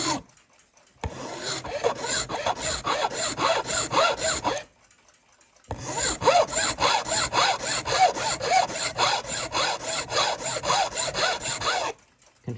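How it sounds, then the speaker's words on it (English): A file rasps back and forth to work excess brazing material off a Gilbert mantel clock's crutch, two long runs of quick, rhythmic scraping strokes separated by a short pause. "Hand work the excess brazing material there."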